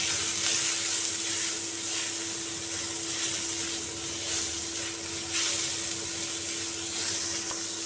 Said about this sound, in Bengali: এতে রসুন কুচি ছেড়ে দিলাম, দুটো মিহি করে কাটা পেঁয়াজ কুচি, গাজর, অল্প বাঁধাকপি কুচি একটু সতে করে নেব বা নেড়ে নেব।